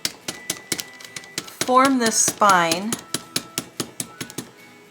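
A little hammer taps a book spine over wax paper during loom book binding, giving a steady series of sharp, close knocks, with a person speaking briefly in the middle of the tapping.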